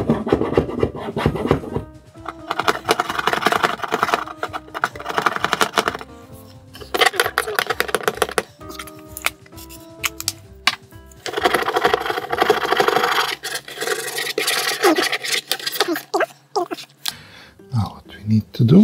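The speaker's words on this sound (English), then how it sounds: "Scrape, scrape away." A sticker on a computer case being scraped off after soaking in WD-40, with loud, busy bursts of rapid scratching and rubbing close up, broken by brief pauses.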